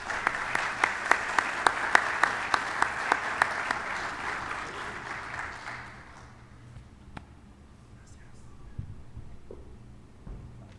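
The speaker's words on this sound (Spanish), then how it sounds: "Los recibimos con un fuerte aplauso." An audience applauds to welcome a panel at an academic colloquium, a steady crowd clapping with sharp rhythmic claps over the first six seconds before fading into quiet room tone with a few stray sounds.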